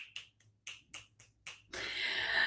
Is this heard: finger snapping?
yes